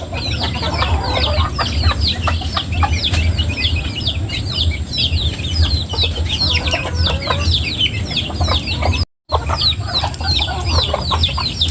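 Pet chickens at feeding time fill the air with dense, overlapping clucks and chirpy calls, close and loud, continuing steadily with only a brief dropout near the end.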